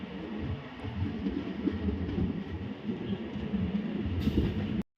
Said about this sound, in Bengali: ছিয়াশি কিলোমিটার অতিক্রম করে এখন ট্রেন দাঁড়িয়েছে